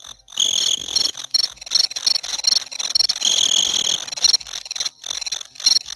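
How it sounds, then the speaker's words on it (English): Crickets chirp steadily in dense, high trilling pulses, a continuous insect chorus heard alone at moderate loudness with no talking. "It was crickets."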